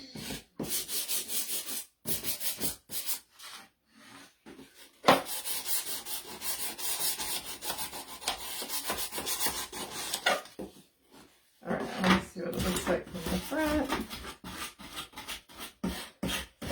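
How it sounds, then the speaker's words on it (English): Sandpaper rubs back and forth on a thrifted wooden spoon holder in quick bursts of scratchy strokes, close and fairly quiet, with short pauses between passes. "I did a lot of sanding ahead of time"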